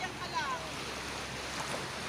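Strong sea waves wash steadily onto a beach with a dangerous pulling current, a broad rushing surf noise that fills the whole moment under faint talk.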